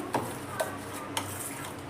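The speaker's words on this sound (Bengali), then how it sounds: "গুড়টাকে খুব ভালো করে মিশিয়ে নেবো" Jaggery being stirred into a burnt raw mango drink with a spoon, giving a few soft clinks against the vessel at intervals over a low, steady background, with no voices.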